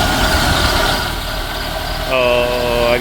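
A 1983 K-Car wagon with a five-speed, sitting for thirty years, idles close by with a steady low rumble that turns smoother toward the end, while someone talks over it.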